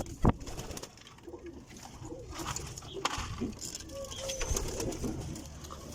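Pigeons coo on a rooftop in soft, rolling calls near and far, with a sharp knock at the start and faint voices murmuring in the background.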